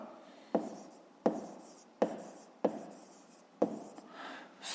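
Pen strokes on paper during a fifth-grade maths exercise, five sharp, evenly spaced scratching bursts about every 0.7 seconds, each fading into a soft rub, close and fairly quiet.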